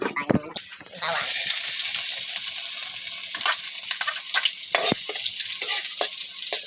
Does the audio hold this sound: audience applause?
no